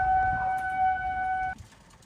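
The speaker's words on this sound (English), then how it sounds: "Tornado sirens wailed in several counties" Tornado warning sirens sound during severe thunderstorm weather: two steady, sustained tones hold for about a second and a half and then cut off abruptly, leaving quiet low background rumble.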